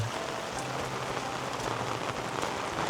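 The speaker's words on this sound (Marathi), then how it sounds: "आज काय थांबायचं नावच घेत नाही पाऊस" Steady rain pours down in a village, a dense and continuous hiss of drops striking surfaces, unbroken throughout with no voices.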